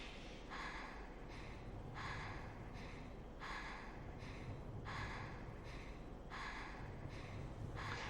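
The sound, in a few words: character panting from low health in Fatal Frame video game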